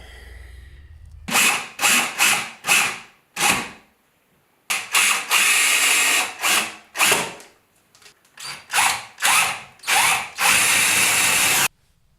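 A power drill mounts industrial pipe bookcases, whirring in short, repeated bursts with quiet gaps between them, loud and close.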